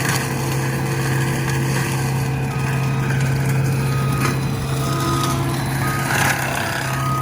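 Fecon Bull Hog mulcher grinding trees with spinning hammers: a steady, loud machine roar with a constant engine hum and a continuous reversing-style beep, no pauses throughout.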